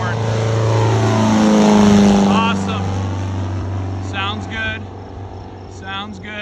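An aircraft takes off with a loud engine drone whose pitch sweeps and rises, then settles into a steady hum, with brief chirpy tonal blips over the engine noise toward the end.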